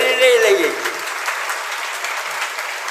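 A congregation at a Jain sermon breaks into steady applause after a speaking voice fades, clapping evenly for a few seconds.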